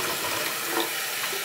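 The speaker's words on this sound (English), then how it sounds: "And then we'll fill the bottle right to the top, let the water overflow," Tap water runs steadily into a drinking bottle, filling it to the brim and spilling over in a continuous close hiss and splash.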